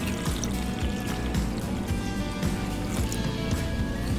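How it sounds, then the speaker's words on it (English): Wet pancake batter ingredients poured into a well in a bowl of dry ingredients for vegan pumpkin pancakes, a steady close liquid stream with soft splashes and gurgles. "And then we're just gonna pour this into the well."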